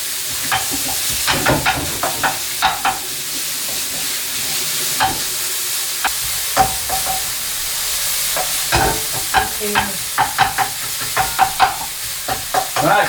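Pork stir-frying in a pan for a Thai aubergine, basil and chili paste dish, a steady loud sizzle with frequent clanks and scrapes of a utensil stirring, no talking.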